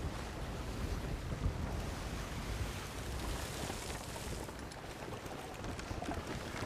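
Stormy ocean in Sea of Thieves: a steady, dense roar of crashing waves and gusting wind buffeting a sailing ship, loud and continuous throughout with no pauses.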